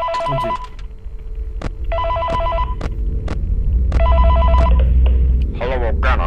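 A phone rings in the Wonderland Android video game, a loud electronic ring repeating in regular bursts over a steady background hum, with a brief warbling tone at the end.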